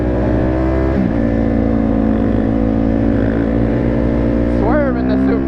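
A Suzuki DRZ supermoto motorcycle droning steadily at close range with a constant engine hum and a rising rev near the end, voices talking faintly over it.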